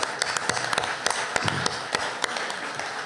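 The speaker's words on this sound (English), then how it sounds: "So let's give a big round of applause for it all going to charity" An audience at a whiskey speaker series event breaks into a round of applause, a dense, steady patter of many hands clapping with sharper individual claps popping out through the roughly three seconds.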